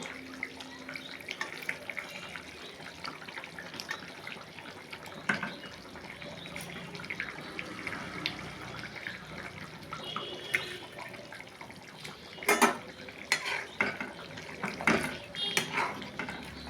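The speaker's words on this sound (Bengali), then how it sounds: "জল ফুটে এসছে, আমি মাছগুলো ছেড়ে দেব।" Pieces of catla fish slipped into a pot of boiling water, giving a steady bubbling, watery wash with a few louder splashes and clatters near the end, close and moderately quiet.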